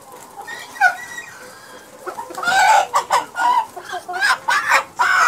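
A rooster on a poultry farm gives a string of loud, close clucks and short throaty calls, rising into a busier run of bursts toward the end.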